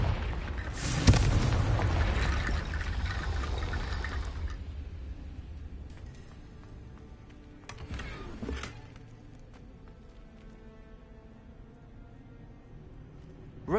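A Confringo fire spell bursts in the game Hogwarts Legacy with a loud boom and crackling blast that fades over a few seconds, then a second, smaller burst follows later before things quiet down.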